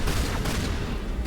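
Shotgun blasts in the Mass Effect video game, dense and loud, overlapping in a brief flurry against steady combat noise.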